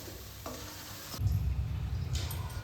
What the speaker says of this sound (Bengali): আমি ছোট ছোট করে ভাজছি স্ন্যাক্স হিসাবে খাওয়ার জন্য